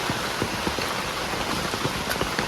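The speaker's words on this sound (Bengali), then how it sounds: "দেখুন কিরকম বৃষ্টি হচ্ছে" Steady rain pours down, a dense even hiss with scattered drops pattering on a nearby surface, with no voices.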